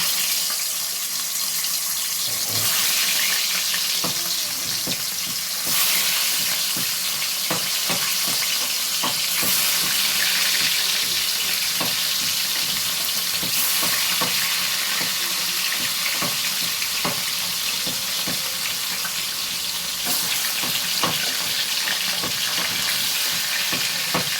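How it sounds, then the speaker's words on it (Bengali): Steady, dense crackling sizzle of rohu fish frying in smoking-hot oil, loud and close, with occasional sharper pops and utensil clicks throughout; no voices. "মাছগুলো ভাজা হচ্ছে, মাছগুলো ভাজা হতে থাকুক"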